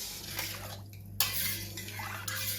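Thandai masala stirred into a milky drink in a metal vessel, a spoon clinking and scraping against the sides in short repeated strokes, close and fairly quiet, with no talking.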